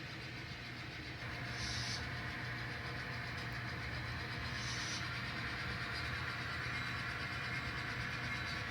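An N scale model train rolls along its layout toward a CSX boxcar, giving a faint, steady mechanical hum and rumble that stays even throughout, with no voices.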